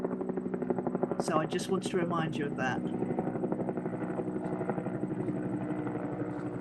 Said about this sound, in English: I just wanted to remind you what a helicopter sounds like.